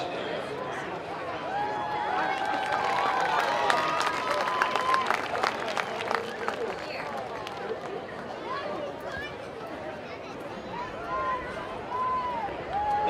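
Crowd applause and cheering in the stands at a high school varsity football senior night, Swain versus Cherokee, a steady wash of clapping and distant crowd noise with voices under it, sustained for several seconds.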